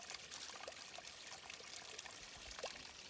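A small spring stream runs out of a hillside on the Ouachita Trail in Flatside Wilderness, a faint continuous trickling wash with no voices.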